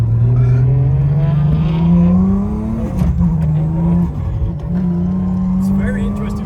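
Nissan GTR all-wheel-drive sports car driving through a roundabout on Finnish streets, a loud close engine drone rising steadily in pitch then dipping and climbing again, with people talking over it.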